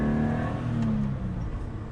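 A car engine held at high revs with a sustained droning whine that falls slightly in pitch, the car suspected of having a vacuum leak; steady and close for two seconds with no talking.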